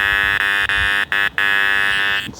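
A Nokta Makro metal detector's iron signal: a loud, steady electronic tone with a bright buzzing edge holds continuously, broken by a few very brief dropouts before it trails off.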